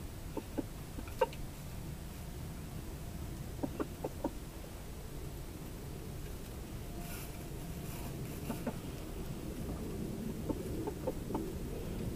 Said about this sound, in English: He's calling the girls over.